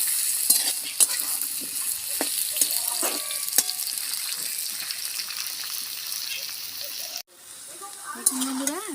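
Potato and papaya pieces sizzling in a pan with a steady crackling hiss and frequent spatula stirs, then a brief pause before the frying resumes more softly.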